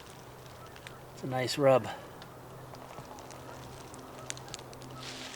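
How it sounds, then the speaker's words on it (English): Geese honk overhead in the woods during a shed hunt, a short burst of several harsh calls around midway, fairly clear against quiet outdoor background, with someone speaking briefly nearby. "I hear geese overhead somewhere."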